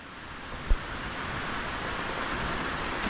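Heavy rain pouring steadily in a rural home setting, a dense, even broadband wash with a soft thud near the start and no voices.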